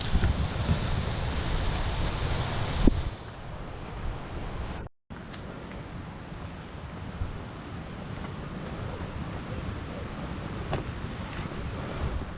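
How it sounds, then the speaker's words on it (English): A river rapid rushes near a hiking trail in Grand Teton National Park, a steady broad roar of water that stays loud and unbroken throughout, mixed with some wind. "There's a river, a rapid over there"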